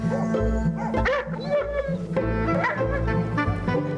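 A bear-deterring dog barks and yelps excitedly by water in Kamchatka, in quick repeated bursts, close and loud, with whiny, pitched cries between barks.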